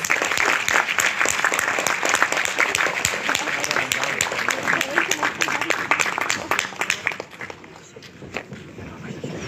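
Sustained applause from an audience at a concert in the Telšiai culture centre welcoming a mixed choir, many hands clapping densely, easing slightly toward the end.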